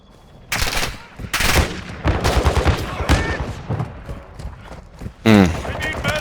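Pistol shots in the video game DMZ, several sharp loud reports spaced irregularly amid game sounds and voices talking.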